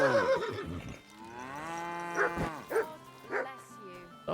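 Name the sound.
horse making a strange sound, video game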